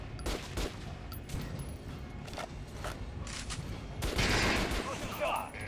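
Rapid gunfire from a weapon fired at training dummies in the Metro: Last Light game, a dense run of shots with a louder burst near the end.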